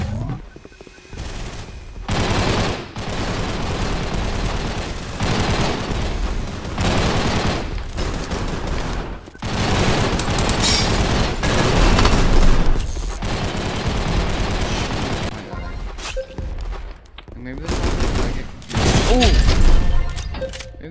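Repeated shotgun blasts in the online shooter Gun Raiders, loud bursts separated by brief pauses across the stretch, with players talking at times in between.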